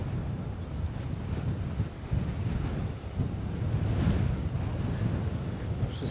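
Strong wind buffets the microphone outdoors at an airport, a loud rumbling roar that swells and gusts unevenly throughout.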